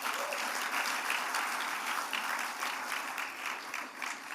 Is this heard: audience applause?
yes